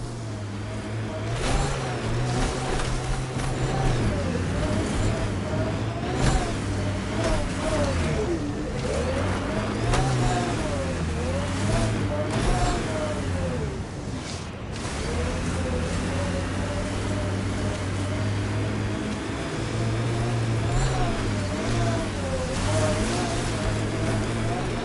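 Nomad all-terrain vehicle from Mass Effect driving through snow on a mountain, a steady droning engine hum with shifting, wavering tones running continuously throughout, fairly loud and close, with no speech over it.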